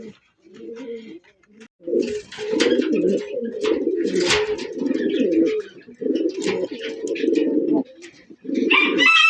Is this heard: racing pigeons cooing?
yes